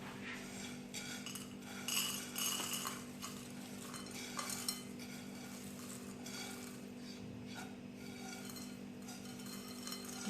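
Freshly dry-roasted whole spices for homemade garam masala are scraped and tipped onto a plate, with quiet metallic clinks and scraping of a utensil against a pan repeating over a low steady background hum.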